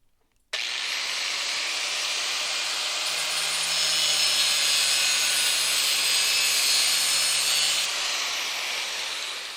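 An angle grinder cuts metal in a garage, a loud, continuous high-pitched whine starting suddenly after a brief quiet and holding steady for several seconds with slight swells, no talking.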